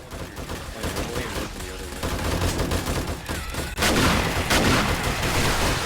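Automatic turrets in the game 7 Days to Die open up on zombies with dense rapid gunfire that thickens into a loud, unbroken barrage after a sharp burst midway, with a faint voice beneath.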